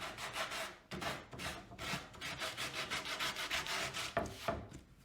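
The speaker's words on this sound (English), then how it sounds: "we'll take our 60 grit sandpaper and we'll just rough that up and get it nice and smooth" A wooden board is scrubbed by hand with 60-grit sandpaper along the grain, a steady run of rough, rasping back-and-forth strokes with a brief pause near the start, close and fairly loud with no talking.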